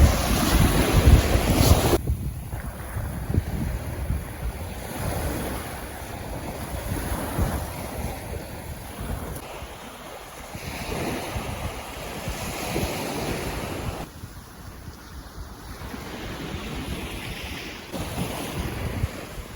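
Steady surf of a slightly stormy Black Sea breaking and washing ashore at Chornomorsk beach under constant gusty wind buffeting the microphone, with no voices.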